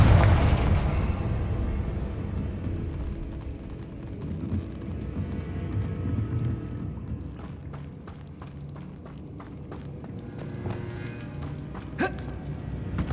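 A Confringo fire spell in Hogwarts Legacy erupts in a loud, deep blast that rumbles and fades, followed by scattered smaller impacts and crackles.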